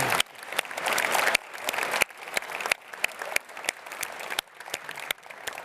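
An audience at a government energy announcement claps for ministry staff, with many hands close together and loud individual claps standing out sharply. The applause comes in uneven surges and dies down toward the end.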